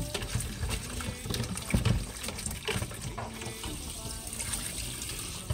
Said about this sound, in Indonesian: Nah, ini sayur asinnya kita buang dulu airnya.